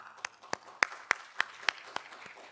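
Sparse applause from a forum audience at the Global Battery Forum, with a handful of distinct, separate claps spaced out over a couple of seconds, fairly faint and thin rather than a full ovation.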